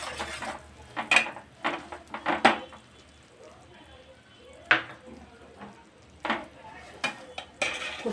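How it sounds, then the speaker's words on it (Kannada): Grated coconut fries in a spoonful of ghee in a pan, with a soft sizzle broken by intermittent metallic clinks and scrapes of a spoon stirring, some loud and close. "ತುಪ್ಪದಾಗ ನೀಟಾಗಿ ಹುರ್ಕೊಳ್ಳೋಣ ಕೊಬ್ಬರಿನ"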